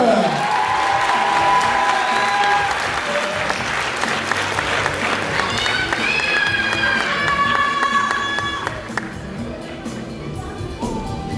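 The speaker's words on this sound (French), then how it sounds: "je vous invite à rejoindre les coulisses pour vous préparer pour la suite de cette soirée exceptionnelle sous les applaudissements du public" A live audience at a French pageant evening (Ambassadrices de France 2019) applauds loudly, with cheers and whoops over sustained clapping while music plays, the applause slowly thinning toward the end.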